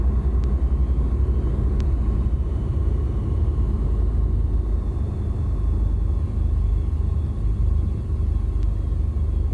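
Simulated light aircraft rolling along the runway after touchdown at Goodwood in X-Plane 11, a steady loud low rumble with engine drone that carries on throughout with no talk.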